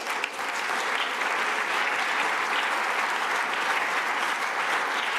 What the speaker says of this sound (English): Let me propose that we offer a round of applause to our two speakers.